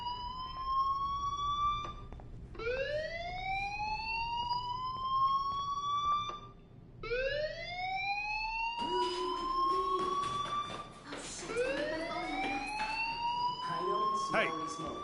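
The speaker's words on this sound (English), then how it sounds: "Hey, do you hear that fire alarm?" A school fire alarm in the Life Is Strange video game gives repeated rising electronic whoops, four sweeping cycles that climb in pitch, loud and steady, with game background sounds underneath.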